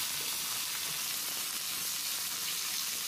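Ginger-garlic paste sizzling in hot oil with onion for a rohu fish and potato curry, a steady close frying hiss running unbroken throughout with no talk.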